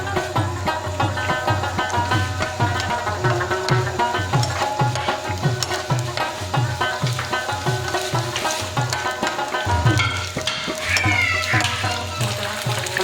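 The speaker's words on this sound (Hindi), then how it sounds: "इसको भी अच्छी तरह फ्राई कर देंगे।" Beef karahi gosht frying in a pan for a restaurant-style dish, with a loud, steady sizzle and regular rhythmic stirring strokes throughout and no voices.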